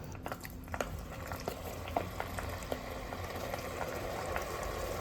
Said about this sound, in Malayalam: ഇനി കപ്പലണ്ടി എണ്ണയിലേക്ക് ഇട്ട് വറുത്തെടുക്കാം